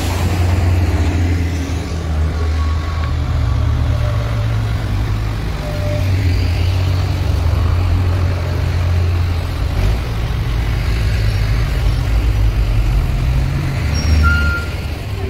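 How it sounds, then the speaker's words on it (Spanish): Heavy trucks arriving beside the swollen Limón river in Aragua, a steady low engine rumble from several vehicles mixed with outdoor noise, continuous and fairly close throughout. "están llegando muchos camiones"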